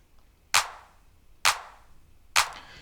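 Three sharp, bright clap hits from a dance music track, evenly spaced about a second apart, each with a hard, piercing attack and short decay, heard alone and unprocessed.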